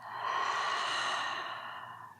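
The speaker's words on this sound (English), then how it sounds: "Slow exhale out." A slow, deep exhale during a breathing exercise, one long breathy stream of air that rises quickly and fades gradually, close and alone.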